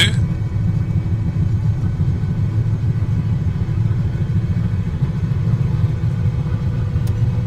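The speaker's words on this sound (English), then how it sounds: "Okay, let's now go for engine 2." Bell 222B helicopter in a flight simulator with its second engine starting, heard as a steady, loud low rumble that holds evenly throughout with no talking.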